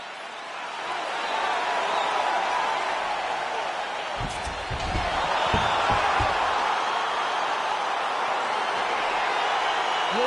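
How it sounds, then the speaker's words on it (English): A UFC arena crowd roars steadily as a fight gets underway. Broad, distant cheering swells slightly partway through, and a few low thuds land in the middle. Commentators talk over it. "crowd getting excited as this fight gets underway"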